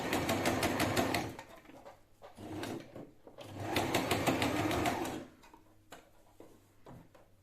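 A sewing machine stitches a zigzag seam on a fabric tote bag in two sustained bursts of rapid, even mechanical chatter, separated by pauses with soft handling clicks, close and clear with no talk.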